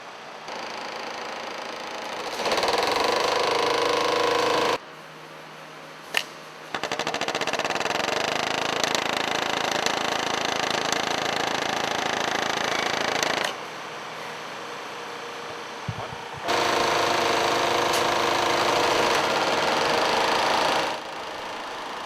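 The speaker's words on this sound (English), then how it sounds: "The chisel makes a double cross cut. First, on one side, and then the other." A machine chisel cuts double cross-cut teeth into a metal file in a Vallorbe file workshop, producing loud rapid mechanical chattering in long bursts, separated by brief pauses and a sharp clack.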